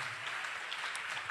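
Audience clapping at a preaching or speech event, a steady wash of applause filling the short moment at moderate level, with no voices standing out.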